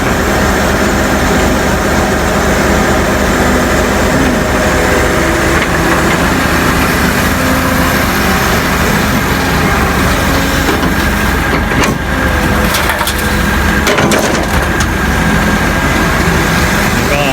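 A Komatsu PC200-6 excavator with its original engine runs at a loud, steady drone, digging hard clay soil, with no break in the heavy mechanical roar.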